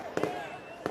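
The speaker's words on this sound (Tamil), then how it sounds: "பட்டாசு கொஞ்சம் நிப்பாட்ட சொல்லுங்க" Firecrackers bursting at a political campaign rally in Tamil Nadu, a few sharp loud cracks in quick pairs, one pair early and another near the end, over a speaker's amplified voice.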